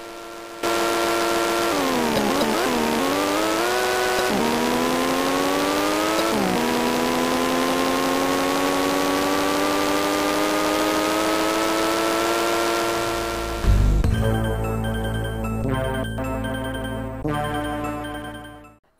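Synthesized race car engines from the Amiga game Days of Thunder drone loudly and continuously, pitch rising and falling with gear shifts, then a brief burst and fade near the end.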